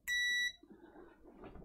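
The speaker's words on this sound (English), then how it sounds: "I shall set it to continuity mode so it beeps when the probes touch." A multimeter in continuity mode gives a single sharp, high electronic beep lasting about half a second as its probes touch, during a Dell G5 gaming laptop repair, followed by faint handling noise.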